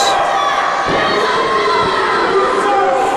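A wrestling crowd on its feet roars and cheers loudly, a dense sustained mass of voices with shrill shouts rising through it and no commentary over the top.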